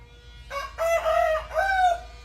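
A rooster crows once, loud and close, its call rising and falling in a drawn-out cock-a-doodle-doo.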